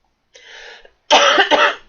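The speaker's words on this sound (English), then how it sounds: "I'm going to have a coughing fit." Two harsh bursts of coughing, a softer rasp followed by a louder, longer hacking cough, close to the mic with no talking.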